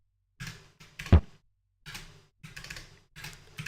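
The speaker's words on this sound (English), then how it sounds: "Capacitive keyboards are wonderful, but you absolutely have to keep them clean." Typing on a capacitive keyboard of an Amiga 500 setup, a series of clattering key presses in uneven bursts with gaps, one sharper heavy thump standing out, close and fairly quiet, with no voices.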